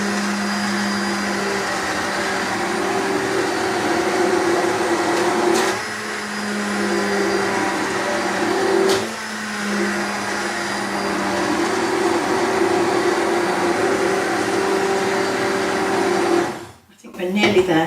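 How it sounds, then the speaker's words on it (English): A stick blender blending soup whirs steadily for a long stretch with a constant motor hum, briefly dipping in pitch twice, then cuts out abruptly near the end. "keep the stick blender in the soup"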